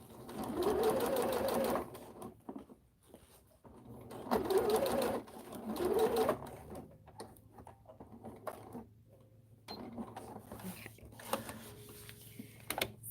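A sewing machine stitching fabric in a home sewing room, several bursts of rapid rhythmic whirring and clatter separated by short pauses, with quiet handling sounds in between.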